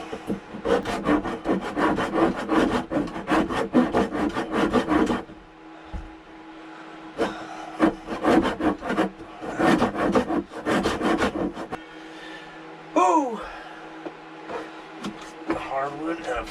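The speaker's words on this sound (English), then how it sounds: "Hardwood and a fine saw. It's a new saw, but maybe a little too fine." A new fine-toothed handsaw cuts hardwood for a wooden gaff cutter's frame repair, with rapid rhythmic rasping strokes in bursts separated by pauses, close and clear, with a voice speaking in the gaps.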